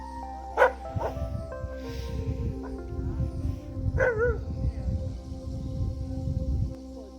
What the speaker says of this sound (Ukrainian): Наші собаки ковбасяться.